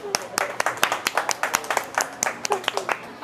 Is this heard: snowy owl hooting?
no